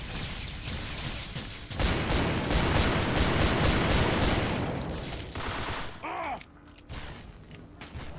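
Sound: gunfire in video game Fallout 3

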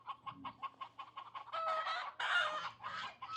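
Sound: chickens clucking

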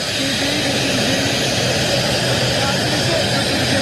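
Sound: aircraft engines at Sabiha Gökçen Airport

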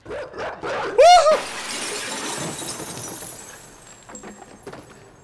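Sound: dog barking and chasing in the video game INSIDE

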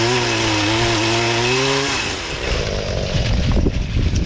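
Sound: pole saw chainsaw cutting a branch

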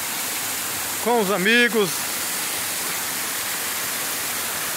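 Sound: Antonico waterfall flowing

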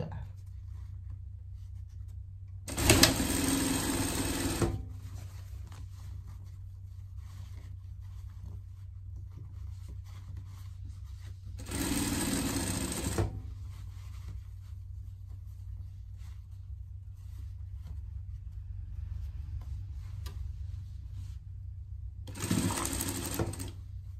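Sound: sewing machine stitching denim pet vest

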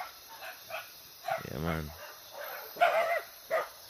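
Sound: dogs barking

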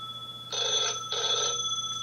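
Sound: telephone ringing

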